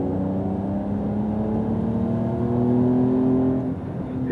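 A Porsche Carrera GTS engine accelerates during a wet first session of a Masters RS track event, its steady, loud drone climbing gradually in pitch, then easing back slightly near the end.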